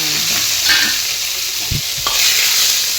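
Onion, garlic and large-cut tomatoes sautéing in a hot pan for an egg salna, a loud continuous sizzle close up with a few stirring scrapes and clinks, no talking.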